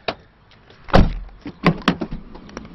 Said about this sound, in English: The power open on the sliding doors for the side, very nice.